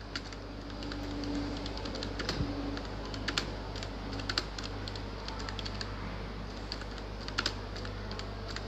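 Someone typing text on a computer keyboard in Microsoft Word 2007, quiet and close, with irregular clicking keystrokes over a low steady background hum.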